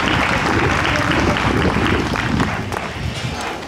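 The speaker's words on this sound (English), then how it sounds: "Can we get a round of applause for our band members?" A crowd at an outdoor Flag Day ceremony applauds the community band, a loud, dense wash of clapping that holds steady before slowly tapering off, with some voices mixed in.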